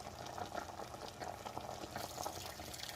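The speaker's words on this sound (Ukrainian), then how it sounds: "Додаємо кип'яток." Steady bubbling and hissing of boiling water poured into a cauldron of seasoned duck on the heat, continuous and moderately quiet.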